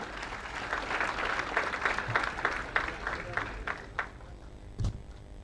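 Applause for the Vice Chancellor at a university matriculation ceremony, many people clapping together in a big hall, steady and moderately distant before thinning out near the end.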